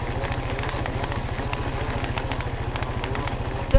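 A four-wheeler ATV engine idles nearby on a grazing pasture, a steady low pulsing chug with a light clattering rattle and even loudness throughout.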